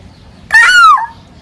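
A single short, high, squeaky cry of a child mimicking a baby chick stands out against a quiet background.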